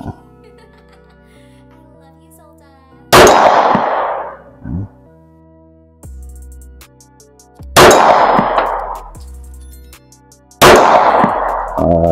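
Pistol shots hit a steel target about 15 to 20 yards away, three loud sharp bangs each followed by a ringing metallic clang, spread irregularly with quiet gaps and faint background noise between.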